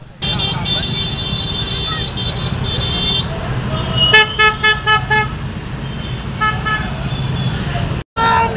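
Motorcycle rally through Nashik Road for an election campaign, engines droning steadily with bursts of vehicle horns honking and tooting in rhythmic patterns, loud and close, with crowd voices mixed in.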